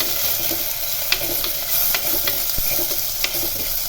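Green chillies tossed into hot oil with onions for a fish-head curry, a loud continuous sizzle and crackle with light stirring scrapes throughout, close up.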